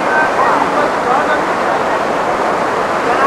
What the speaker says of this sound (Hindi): और यहाँ आप देखो कि इस समय पानी कितना ज़्यादा तेज हो रहा है बरसातों की वजह से।